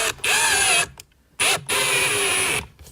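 A power drill drives screws for a backup camera mount in two close, loud bursts, its motor whining and dipping under load, with a short pause between them.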